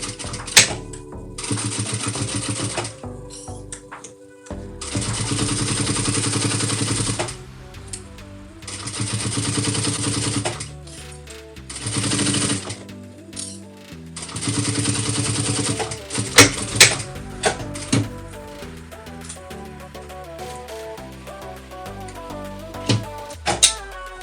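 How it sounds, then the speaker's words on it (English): Sewing machine stitching a 3/8-inch joining seam on a cross bag, running in several bursts of steady rapid whirring separated by short pauses, ending with quick irregular stitches and clicks. "you're doing a joining stitch with 3/8 of an inch seam allowance. Go ahead and attach that."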